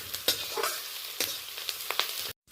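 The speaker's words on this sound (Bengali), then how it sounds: "ফোড়নের সাথে পেঁয়াজ, কারি পাতা, কাঁচা লঙ্কা একটু হালকাভাবে 2-4 সেকেন্ড নাড়াচাড়া করে নিলাম" Onion, curry leaves and green chili stirred in hot tempering oil for spicy semolina, a steady soft sizzle broken by a few sharp spatula scrapes, close and moderate in level before cutting to silence at the end.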